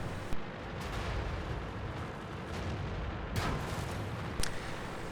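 Tank cannon shots in World of Tanks on the Tundra map, a few sharp booms at irregular intervals over a steady, dense rumble of battle noise.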